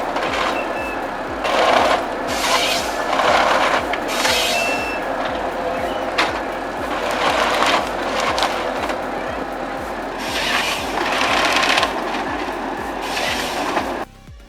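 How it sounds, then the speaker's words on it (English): A Komatsu 895 forwarder handling heavy logs in a logging operation, loud machinery with a rhythmic clanking pulse, repeated bursts of hydraulic and engine roar and knocking wood, sustained and close. "Watch how easy the Komatsu 895 handles those heavy logs."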